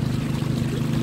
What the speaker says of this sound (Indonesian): Kita dengan kapal kecil bermotor mesin Alcon.